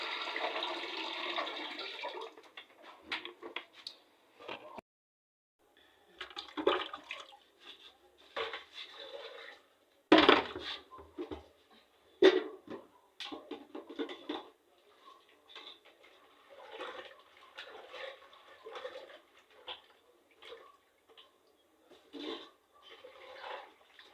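Water splashes and sloshes intermittently as yam is washed by hand in a village kitchen, with soft clatter of a pot and a quiet voice at times.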